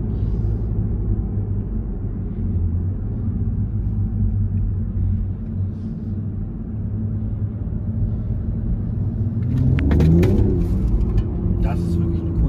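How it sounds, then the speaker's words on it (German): A 2023 Toyota Supra 3.0 GR engine drones low and steady in the cabin while driving, then swells into a heavier rumble as it accelerates, with a few faint clicks. "wenn ich dem Auto ein bisschen Gas gebe, das Auto Leistung aufbaut"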